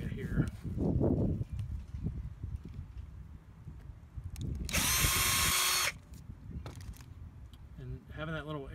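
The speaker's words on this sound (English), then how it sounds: "taking a 1/16 inch drill bit and cutting a small hole on the end of the end cap" A power drill whirs loudly for about a second as a 1/16 inch bit bores a small air hole through a plastic end cap, between stretches of someone talking and handling objects.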